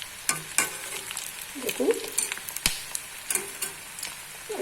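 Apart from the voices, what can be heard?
fish egg fritters being turned and fried in a pan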